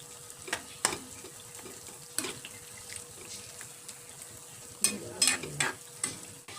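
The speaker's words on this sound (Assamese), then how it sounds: "আৰু এতিয়া এইখিনি মই এবাৰ মিক্স কৰি প্ৰায় 10 মিনিটমান সিজাই ল'ম।" Chickpea dal with roselle leaves cooking in a pan, a soft sizzle under occasional scrapes and knocks of a spoon, sparse at first and then a cluster of stirring near the end.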